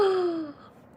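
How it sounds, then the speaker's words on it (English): A single close yawn, a drawn-out breathy vocal sweep that slides downward and fades after about half a second, heard alone. "Stop yawning."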